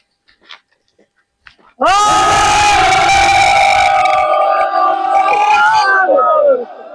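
A large crowd at a Ramadan gathering roars back Allahu Akbar in one loud, sustained, chant-like shout that bursts in after a couple of seconds of near quiet and holds for about five seconds before fading.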